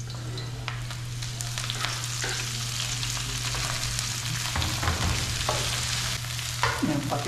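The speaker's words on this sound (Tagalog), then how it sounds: "Gisa na natin to." Food being sautéed in a frying pan, a continuous loud sizzle with scraping and stirring sounds over a steady low hum, no talking.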